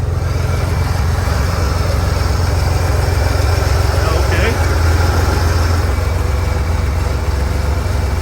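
A Corsa car engine idles at about 1,000 RPM, giving a continuous, even low rumble that holds steady and close throughout.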